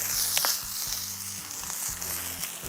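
Steaks seasoned with salt and oil sizzle over an outdoor campfire, a soft steady frying hiss with faint crackles and a low hum beneath, heard alone without talk.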